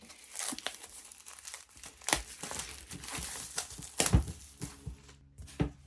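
Plastic wrapping around an art surface crinkles and crackles as it is pulled open, in irregular close bursts with a few sharper tearing rustles and no speech.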